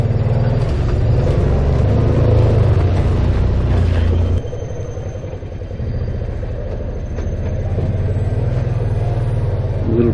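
A side-by-side off-road vehicle moves through muddy woods in four-wheel drive low range, its engine droning and rumbling steadily close by, loud at first and then slightly quieter and lower as it crawls along.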